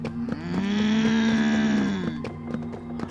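A creature in the video game Zoonomaly lets out a loud, cow-like moo lasting about two seconds, with a low sustained tone and rich harmonics, amid faint clicks.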